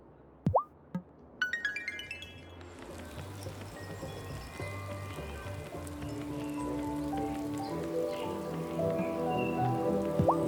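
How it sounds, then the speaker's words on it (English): Rain patters and plops in the Wylde Flowers farming game, starting with a few sharp drips and thickening into a steady soft shower under gentle musical tones. "The sound of rain is so soothing"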